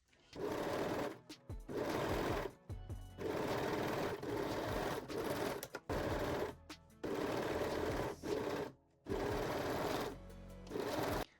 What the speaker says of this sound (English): we can sew the side seams using a serger or a zigzag stitch.